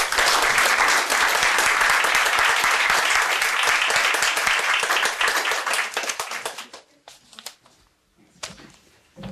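Dense, loud audience clapping welcomes poet Judith Arcana at an evening poetry reading, sustained for several seconds before thinning out to a few scattered claps.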